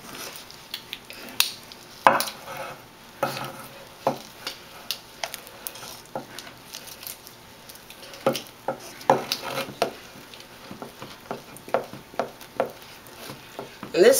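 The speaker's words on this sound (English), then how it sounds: "this is going to take quite a bit of stirring" Melted marshmallows are stirred for fondant, giving irregular sticky scraping and clicking strokes of a utensil against the pot that repeat steadily, close and fairly quiet.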